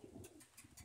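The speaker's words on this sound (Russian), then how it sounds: "А у нас тут голуби." Pigeons coo softly in a brief burst of low, throaty calls, faint and nearby, with no talking.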